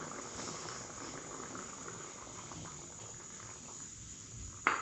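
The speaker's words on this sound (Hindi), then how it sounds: "ये पक के इसमें शीरा बन गया, तैयार हो रहा है ये" Water and sugar boiling into syrup in a pan, a soft continuous bubbling and hissing simmer at low level with a faint clink right at the end.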